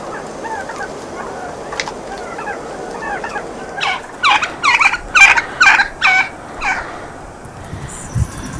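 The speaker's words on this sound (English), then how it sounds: "If you become closer friends to my turkeys, they'll tell you any story you want to know." Turkeys call in a flock, starting with scattered soft bird chatter, then a run of loud, close gobbles bunched in a burst near the middle before things quiet down again.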